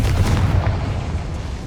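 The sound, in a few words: Confringo fire blast spell exploding, Hogwarts Legacy video game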